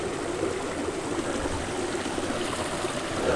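A small river tributary flows in a steady, unbroken wash of rushing water, close and even throughout, with no voices.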